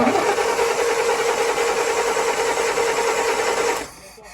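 A Land Rover Series 2.25 TDI diesel engine is cranked over with the starter, without firing, to build oil pressure after a spin-on oil filter conversion; a steady, loud churning drone runs for about four seconds, then cuts off abruptly.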